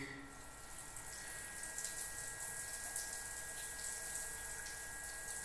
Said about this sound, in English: water flow has started